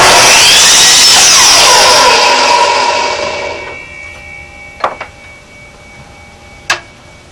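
A power saw rips through wood loudly for about three seconds, cutting a pen blank in two for pen turning, then winds down into quiet, followed by a few sharp clicks.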